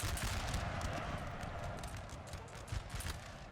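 Musket volleys in the Napoleon: Total War battle game, crackling bursts of massed gunfire over a dense battlefield rumble with galloping hooves beneath, fairly quiet and continuous throughout.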